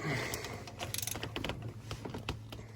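Ratchet wrench with a 1/2 inch socket working on boiler flange bolts, giving quick close clicking and metallic rattles in short bursts, with some clanks and shifting tool noise.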